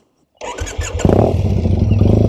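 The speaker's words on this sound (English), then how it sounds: "It just has an absolutely beautiful sound. One of the most just absolutely gorgeous sounding motorcycle." A Triumph motorcycle engine, a 2005 T100 built as a 1965 Triumph clone, cranks and fires up, then settles into a loud, throbbing idle close by.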